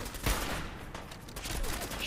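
Pipe rifle shots crack in rapid bursts in Fallout 4, sharp close reports over a noisy game backdrop, with a voice talking faintly underneath.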